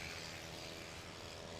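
A light aircraft engine runs at full throttle during a STOL competition takeoff, giving a steady, dense propeller roar that is continuous and fairly distant.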